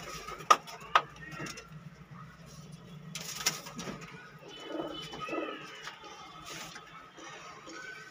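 Pet pigeons cooing softly at moderate distance, with a couple of sharp knocks early on and faint voices in the background.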